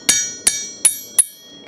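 A forging hammer strikes metal four times in an even rhythm, each blow a loud, sharp ringing clang close by, with the last ringing tone fading afterward and no talking.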